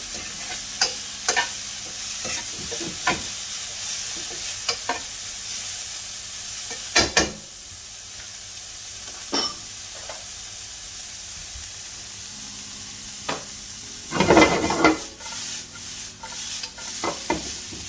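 Spicy prawn noodles with bean sprouts and capsicum are stir-fried in a hot pan, a constant steamy sizzle broken by clattering utensil strokes and tossing bursts, louder near the end; no speech.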